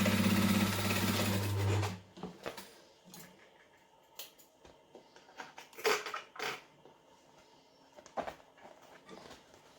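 A sewing machine stitches slowly around a curved seam on a Sweet Pea garment, its motor whirring steadily for about two seconds before stopping, followed by scattered light clicks and fabric-handling noises.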